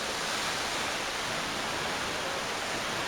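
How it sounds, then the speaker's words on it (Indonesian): Takapala waterfall in Malino, South Sulawesi, roars as a steady, dense broadband rush of falling water, loud and unbroken throughout with no voices. "Latar belakang saya adalah sebuah air terjun yang bernama air terjun Takapalang ya."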